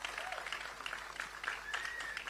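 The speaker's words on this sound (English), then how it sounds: "A big round of applause for everyone." Applause from an audience at the trailer launch for the film Maidan, a steady broadband patter of clapping lasting a couple of seconds at moderate distance, with faint voices mixed in.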